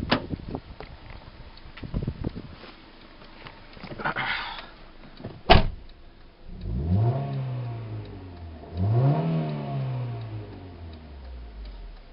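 A 1996 Honda Civic DX engine revs twice in close succession, each rise and fall of pitch standing out clearly after a sharp click and some faint handling noise, with no talk over it.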